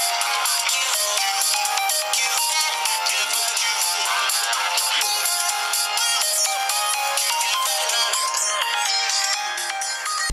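A Moto E4 phone plays a ringtone through its small speaker: a bright, continuous melodic tune with no low end, loud and close, running steadily for about ten seconds.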